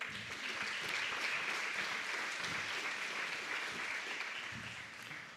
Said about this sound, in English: Let's give Gary a round of applause